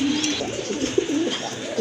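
A pair of white Danish pigeons coos close by, a run of soft, low, rolling coos repeating in quick succession.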